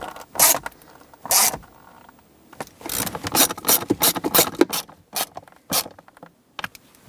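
Screws are driven into the plastic center console lid of a 2007-2014 Chevrolet Silverado 2500HD, giving close, irregular runs of sharp ratcheting clicks and small creaks separated by brief pauses, with no talking.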